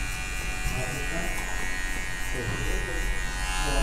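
Electric hair clippers fitted with a 0.5 guard cut hair during a high fade haircut, giving a steady, close buzzing hum that runs without a break while a voice talks over it.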